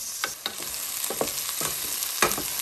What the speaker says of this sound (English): I want to saute this garlic and ginger paste for at least a minute before adding the tomatoes